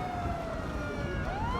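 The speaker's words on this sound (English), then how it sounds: "I'll get these sirens off" Police car sirens in a video game wail in slow rising and falling sweeps, loud and continuous over a low rumble of traffic, with no talking.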